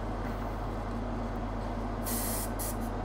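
Spray bottle misting warm water onto a model scenery bulkhead: a steady close hiss with a few short bursts near the end, over a constant low hum.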